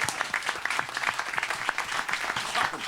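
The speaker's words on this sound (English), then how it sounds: "Give her a round of applause." Audience applause on a cruise-ship morning show during a Venice voyage: dense, steady clapping from a sizable crowd, loud and sustained throughout without a break.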